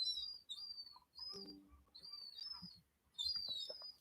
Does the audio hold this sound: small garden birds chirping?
yes